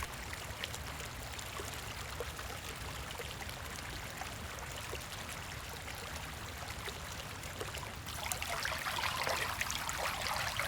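A stream trickles and splashes steadily as a leopard cat, a medium-sized wild cat of about 3–4 kg, crosses it on a mountain territory patrol; the water grows louder and brighter near the end, with no voices.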